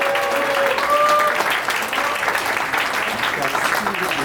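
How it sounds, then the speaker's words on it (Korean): An audience at an alumni association inauguration ceremony in a hotel hall applauds continuously, a dense, sustained clapping with faint voices and a brief tonal sound early on. "여러분 아낌없는 박수 부탁드립니다."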